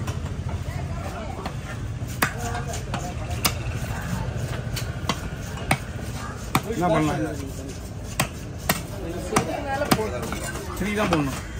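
A big queen trevally being chopped at Kasimedu fish market, sharp cleaver strikes landing in an irregular rhythm against a steady low market hum, with people talking throughout.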